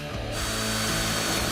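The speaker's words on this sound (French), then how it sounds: "Je perce dans les coins et je fais un trou suffisant pour laisser passer la lame de ma scie." A power drill bores into the corners of an MG B car roof, a steady close whirring grind that runs continuously with a rough, rattling texture throughout.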